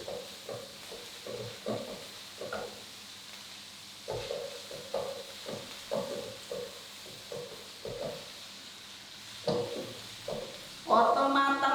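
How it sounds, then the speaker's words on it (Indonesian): Chopped carrots sizzling in a pan while cooking arem-arem filling, with repeated short scraping stirs at a steady rhythm over a quiet hiss and a louder clatter near the end. "Masak hingga wortelnya matang."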